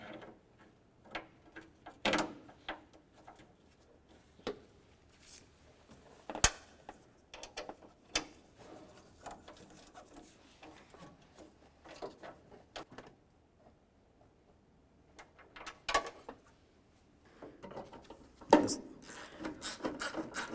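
Headlight assembly mounting screws are driven into a 1994–2002 Dodge Ram 2500, faint intermittent ratcheting clicks and rubbing scrapes separated by quiet pauses, with no talking.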